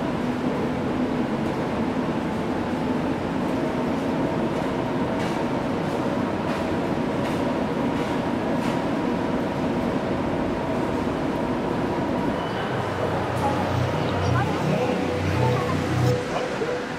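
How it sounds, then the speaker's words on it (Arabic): Train running toward Seoul Station in Korea, a continuous loud rumble and rattle of rail cars with a low droning hum rising near the end, while someone speaks over it. "هذا القطار راح يودينا هسه على سول ستيشن، ومنها رايحين على بوسان"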